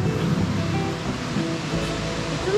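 The Ōta waterfall gives off a steady, broadband roar of falling water heard from a viewing platform, constant and fairly loud, with a faint brief tone near the end.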